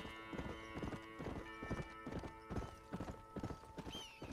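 Rhythmic clip-clop of horse hooves in Red Dead Redemption trots steadily, close and clear, with a brief whinny near the end over faint background music.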